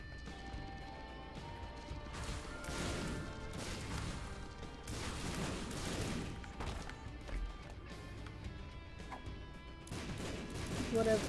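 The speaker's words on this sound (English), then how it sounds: "Let's not have more random explosions in our ears than necessary." Explosions from the video game The Binding of Isaac: Afterbirth Plus burst in repeated, scattered crashes at a low level under constant game background sound.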